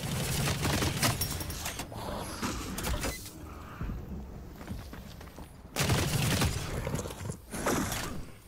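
Gunfire in the shooter game The Cycle: Frontier, bursts of rapid shots in clustered volleys separated by quieter stretches of movement and mechanical rattling, loud and close.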